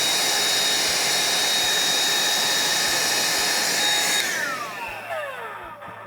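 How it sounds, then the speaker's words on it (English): A vacuum cleaner with a brush attachment cleans a Eureka Mignon Zero coffee grinder, a loud steady whine that spins down after switching off. "So this is when that vacuum that I showed you comes into play. You simply vacuum these."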